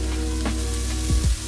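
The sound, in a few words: onion frying in pan without oil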